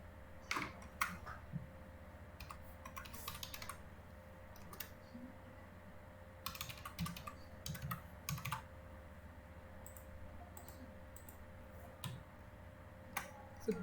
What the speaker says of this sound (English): I'll re-enter the password and see